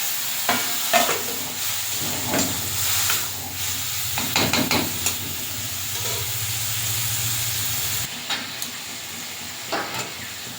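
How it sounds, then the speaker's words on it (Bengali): Masala is stir-fried with a little water in a pan over a coal fire in a village kitchen. A steady hissing sizzle is broken by bursts of scraping from the stirring, and a low hum runs underneath. "অল্প একটু জল দিয়ে মশলাটা ভালো করে কষে নিই"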